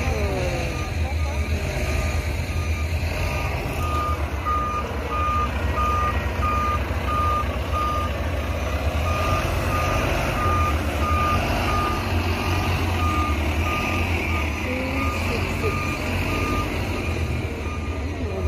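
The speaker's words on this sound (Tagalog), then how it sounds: "Yan yung K66 bus." A K66 bus idles and rumbles nearby on a street by a bus station during a holiday, its deep engine drone steady throughout while a vehicle reversing beep repeats in a regular pattern, with traffic noise and occasional voices around.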